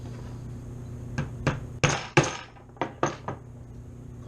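A hammer knocks a spent primer out of a .410 shotshell hull, several sharp metallic whacks in an uneven cluster, close and fairly loud over a faint steady background hum.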